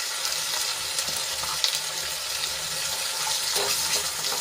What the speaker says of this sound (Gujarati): આદુ લસણ અને મરચાંની પેસ્ટ થોડી સંતળાઈ જાય એટલે એમાં આપણે ડુંગળી એડ કરી લઈશું